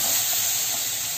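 Curry leaves fry in a little hot oil with a loud, dense, hissing sizzle that stays steady and unbroken for the whole brief moment.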